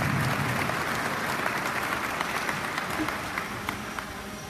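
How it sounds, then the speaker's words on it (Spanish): Steady, dense applause from an audience at a teachers' union leadership workshop in Mexico, loud and sustained throughout, slowly easing toward the end. "Fuerte aplauso para el maestro."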